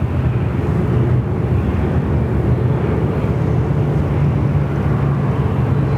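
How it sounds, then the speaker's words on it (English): A Boeing 717 drops in to land on runway 34 left at Sydney Airport, its engines a steady, even roar throughout, fairly loud with no rise or fade, and no voices. "717, just dropping in there, and runway 34 left."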